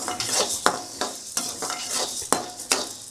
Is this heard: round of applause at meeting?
no